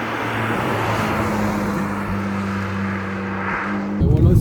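Golf GTI 240 hp engine with a BN Pipes exhaust, silencer removed for a centre outlet, droning steadily inside the car on winter tyres, with a gear shift and then a sudden loud, raspy surge of revs at the end.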